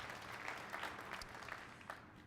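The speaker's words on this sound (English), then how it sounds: "And let's give all of our advisory members a round of applause." Faint, distant audience applause for advisory members at a business challenge event, a soft, even patter of clapping lasting a couple of seconds.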